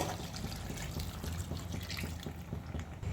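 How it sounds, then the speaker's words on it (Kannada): A glass of water poured onto mutton in a pot for pulav gives a soft, continuous splashing trickle, quiet and close, lasting about three seconds without speech. "ಈಗ ಮಟನ್ ಬೇಯೋಕ್ಕೆ 1 ಗ್ಲಾಸ್ ನೀರು ಹಾಕ್ತಾಯಿದ್ದೀನಿ."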